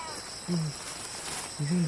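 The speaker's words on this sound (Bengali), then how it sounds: "ওদিকটাতে আবার বিড়াল ডাকতেছে" A cat meows twice outdoors at night, two short, fairly faint calls about a second apart over a steady chorus of crickets and insects.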